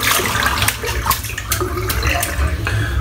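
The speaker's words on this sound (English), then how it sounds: "Just rinsing the brush out now." A shaving brush is rinsed under a running tap, making a loud, continuous rush of water with splashing and fluctuating gurgles throughout.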